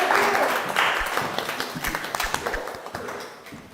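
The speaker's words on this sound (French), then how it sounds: "Applaudissez-la, s'il vous plaît" A small group clapping on a blind dating show, loud at first and then thinning into scattered, distinct claps that trail off toward the end.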